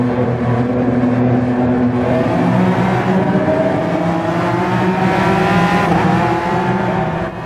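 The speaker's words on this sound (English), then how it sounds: "We're going to be driving the McLaren F1." A McLaren F1 car races in a video game on a Tokyo circuit, its engine revving loud and close with rising and falling tones through gear changes, joined by the sound of other cars, steady throughout with no talking.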